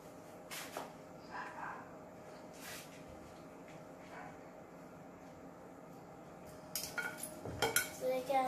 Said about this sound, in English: My mom is just mixing up the salad now.